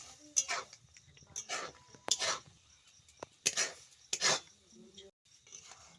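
Semolina is stirred slowly in a pan over low heat, a spoon scraping the pan in several separate, spaced strokes, faint and close, with quiet gaps between.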